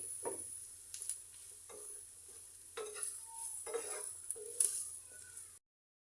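A spatula scrapes and stirs cabbage and other vegetables for Chinese vegetable noodles in a pan, producing a string of close, intermittent scraping strokes over a soft sizzle before the sound cuts off.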